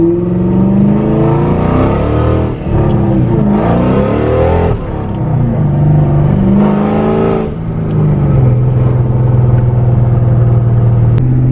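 Boosted 5.0 V8 in a 2-valve Ford Mustang pulls hard under roughly half throttle, loud and close, its engine note climbing through rising revs with brief dips between gears, no voices over it.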